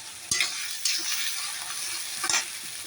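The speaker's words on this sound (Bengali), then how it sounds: "আলুটা দিয়ে দিলাম তেল। আলুটা একটু ভেজে নিই" Diced potatoes fry in hot oil in a pan with a steady close sizzle, while a utensil stirs them in three sharp clacks.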